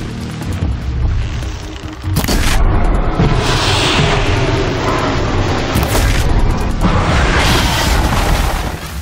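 A machine creature's cannon firing in Horizon Zero Dawn, loud booming blasts with a sharp report about two seconds in and another later on, over continuous heavy rumble and game noise.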